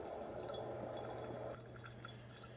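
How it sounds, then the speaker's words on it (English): Coffee trickles steadily from a Ninja Coffee Bar CF082 drip coffee maker, a soft continuous drip and splash with a low hum underneath, close and fairly quiet. "As soon as I pressed the button, maybe within 30 seconds, I had coffee dripping out."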